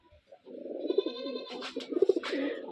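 A pair of white running pigeons coo close by, with soft, rolling, throaty calls repeated several times at a low level.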